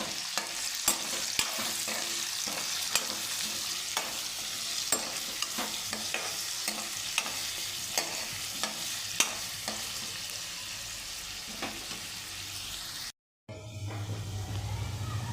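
Finely chopped onion sautéing in a pan for a potato curry: a steady, soft sizzle broken by regular light taps and scrapes of stirring, with a brief dropout near the end.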